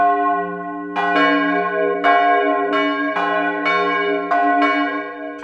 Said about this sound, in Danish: ved højtider, der ringes der med begge klokkerne